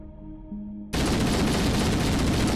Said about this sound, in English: A hailstorm of gunfire ripped through a group of screaming Covenant grunts